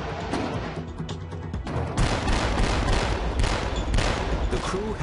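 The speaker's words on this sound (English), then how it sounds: "So right now we'll move into shooting a slowly moving target." A US Navy ship's deck gun firing a burst at a slowly moving target, a dense, continuous roar of rapid rounds with booming low-end rumble and wind noise, loud and close throughout.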